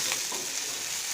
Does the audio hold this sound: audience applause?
no